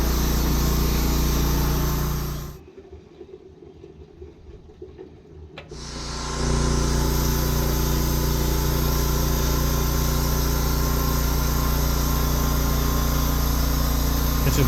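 A pressure washer fitted with a pink nozzle blasts a deck, a loud steady broadband spray that cuts out briefly near the start, leaving a quieter gap, then resumes continuously to the end.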